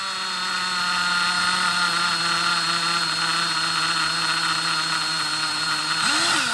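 A steady, loud electric drill whine runs continuously at slow speed while drilling metal for a portable stove, its motor pitch holding even before dipping and rising sharply near the end as it bites in.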